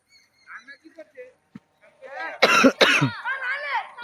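Outdoors beside a harvested rice field near a temple, a person with a cold gives two harsh, close coughs in quick succession, with murmured voices before and after.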